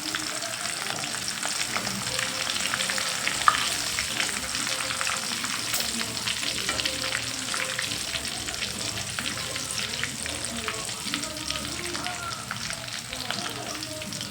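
Curry leaves fry in hot oil for a homemade avarekalu mixture, a dense, steady sizzle with light crackling and occasional stirring throughout, no voices.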